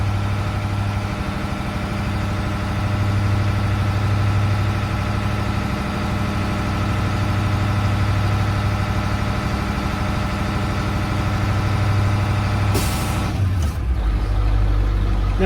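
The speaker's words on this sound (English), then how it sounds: "we're going to start the vehicle back up so we can build the air pressure back to 120" A Class B passenger vehicle's engine idles steadily at close range with a low, even rumble while air pressure builds, broken near the end by a short hiss as the pitch drops.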